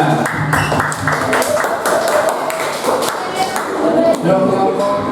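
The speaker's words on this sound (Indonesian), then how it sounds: "Beri tepuk tangan untuk yang kelompok budaya." A class of students clapping hands for a group during a classroom lesson, a steady rhythmic round of claps with some uneven taps, fairly close and loud, with voices mixed in.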